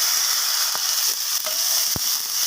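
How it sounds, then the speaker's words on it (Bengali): Chopped tomatoes frying in oil with a black cumin, dried chili and bay leaf tempering, a low sizzle broken by a few sharp scraping clicks of stirring, no voices. "তো ফোড়নের সাথে আমি টমেটোটাকে একটু ফ্রাই করে নিলাম"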